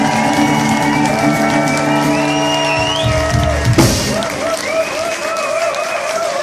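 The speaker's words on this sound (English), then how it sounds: "that deserves a round of applause, doesn't it?" A concert crowd at an album launch applauds loudly under sustained musical tones, the clapping swelling midway with a few shouts and cheers before continuing.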